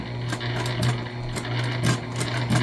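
A sewing machine stitches a placemat being turned into a book sleeve, running in short uneven bursts of quick rhythmic needle clatter at moderate, close range.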